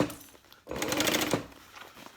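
A sewing machine runs a short burst of rapid stitching while backstitching a seam on a zipper pouch being made into a handbag, close and moderately quiet, starting abruptly after a brief pause.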